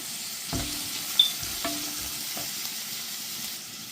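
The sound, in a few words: beef curry with turmeric being sautéed in pan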